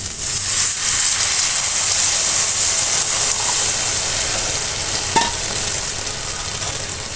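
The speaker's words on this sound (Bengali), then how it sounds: "মশলা রসুন সবকিছু ভালোভাবে ভাজা ভাজা হয়ে আসছে। এখন পরিমাণ মতো পানি দিয়ে নিচ্ছি।" Water poured into a pan of frying garlic and spices for a garlic prawn curry sets off a loud, continuous hiss of sizzling steam that holds steady for several seconds, with a faint clink partway through.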